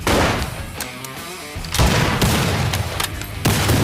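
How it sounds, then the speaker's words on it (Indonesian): Rifle fire from a roadside shop's owners joins a chaotic gunfight, with loud booming shots and rapid bursts of gunfire cracking out at irregular intervals, close and dense, with no talking. "suami istri pemilik kedai juga menembak dengan senapannya"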